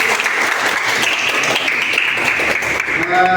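A classroom of students breaks into applause, a dense burst of many hands clapping at close range that carries on steadily, with voices mixed in.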